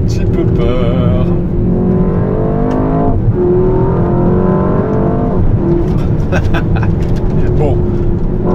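A Mercedes-AMG S63 E-Performance, a heavy 2.6-tonne hybrid sedan, accelerates hard on the road. Its loud, steady engine roar fills the cabin and rises and shifts in pitch, with a voice talking over it.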